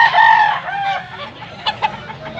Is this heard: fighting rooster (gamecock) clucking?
yes